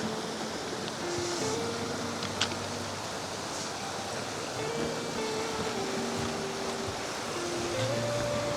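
A river flowing past a campsite at Camp Payapa in Siniloan, Laguna, during a typhoon, giving a steady broadband rush of moving water that carries on evenly throughout with no talk over it.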